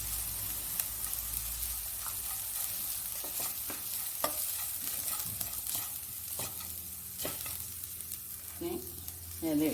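Spice powders and grated coconut stir-frying in a pan for a leaf thoran, a steady soft sizzle under repeated scraping and stirring strokes, with no talking.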